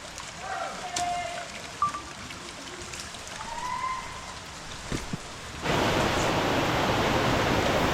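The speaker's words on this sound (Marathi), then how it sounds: "पाऊस खूप जोराचा लागला होता." Heavy rain pours through the jungle on a night trek near Bhimashankar, a steady broadband hiss that abruptly swells to a loud, dense downpour in the final seconds.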